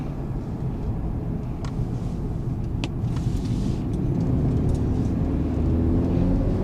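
A Mercedes-Benz C300 car cornering hard, a steady loud engine drone and road rumble that rises slightly in pitch as it accelerates through the turn.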